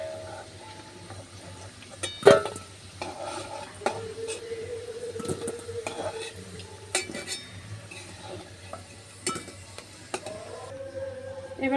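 Fried potato pieces are lifted out of a hot pan during a jackfruit, shrimp and jute-leaf fry-up, with sharp metal clinks and utensil scrapes against cookware over a low background hum, several distinct knocks spread across the stretch.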